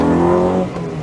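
Honda Integra Type R DC2 driving around a roundabout at about 40 km/h, a close, steady engine note with strong harmonics that eases slightly toward the end, no talking over it.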